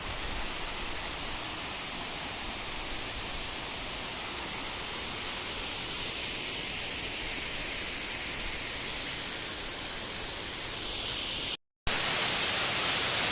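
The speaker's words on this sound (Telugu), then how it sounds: "ఇక్కడ నుంచి అయితే మనం కొంచెం దగ్గర నుంచి చూడొచ్చు వాటర్ ఫాల్ అయితే." Samudra Lingapur waterfall, running with low flow, gives a constant broad rushing roar heard from fairly close, steady and unbroken apart from a brief dropout near the end, with no voices.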